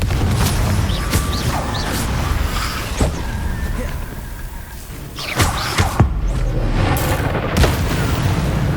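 Blasts from the Confringo fire spell in Hogwarts Legacy land as several heavy booms and thuds spaced through a noisy, rumbling scene, loud and close.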